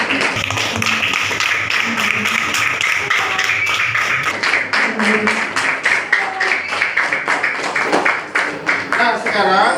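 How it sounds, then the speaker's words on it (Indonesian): Classroom students clap for a classmate, a steady patter of many hands lasting several seconds while a teacher's voice talks over it. "berikan tepuk tangan kepada temannya"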